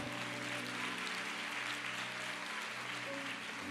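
Steady, dense applause rises from a congregation during a church conference, continuous and fairly distant, with a faint sustained tone underneath.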